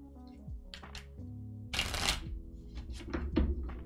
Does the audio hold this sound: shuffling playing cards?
yes